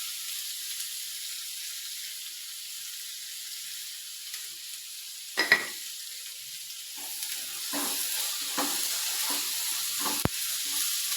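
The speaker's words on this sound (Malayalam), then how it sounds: "ഇതിനി എണ്ണയിൽ കിടന്ന് നല്ലപോലെ ഒന്ന് മൊരിച്ചെടുക്കട്ടെ." Spinach frying in oil in a village home kitchen, a faint hiss that grows slightly louder, broken by a few sharp clinks and scrapes of stirring; no voice.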